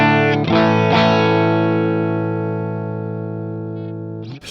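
Fender Telecaster played clean through a Vox AC15 with the Boss SD-1 switched off: a few quick strums, then a full chord left to ring and slowly fade, bright and close with no other sounds.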